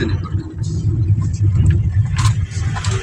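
A car's engine hums and rumbles steadily while driving along roads to Sajek, heard from inside the vehicle with people talking over it.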